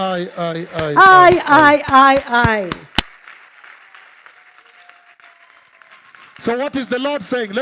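A church congregation at a special prophetic word conference applauds the Lord with soft, distant clapping that fills a short pause between stretches of a voice.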